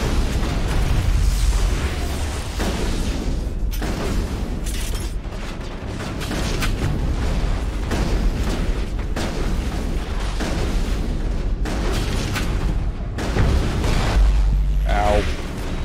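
Rocket explosions in Mass Effect on the moon, a dense, continuous barrage of booms and bursts with heavy low rumble, loud and layered over game noise throughout.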